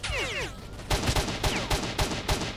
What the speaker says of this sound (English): These guys are firing like full auto, you know, from that range.